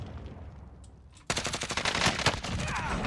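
Heavy gunfire in Warzone: after a quieter opening, a loud burst erupts and keeps going as rapid automatic shots, close and dense, with faint talk underneath.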